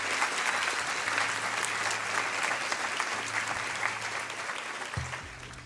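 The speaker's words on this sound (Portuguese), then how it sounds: "Queria pedir uma salva de palmas para os nossos professores homenageados." Graduation ceremony audience applauding honored professors, sustained dense clapping from a large crowd heard at moderate distance, slowly tapering toward the end.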